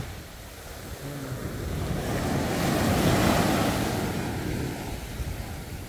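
Sea waves at a shore where the water looks dirty roll in as a broad, swelling rush that builds to a peak midway and then recedes, with wind buffeting the microphone throughout.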